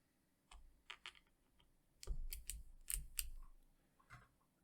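A Kailh Robin clicky keyboard switch is pressed by itself, giving a quiet run of sharp, crisp clicks and snaps in small bursts, close up with no talk.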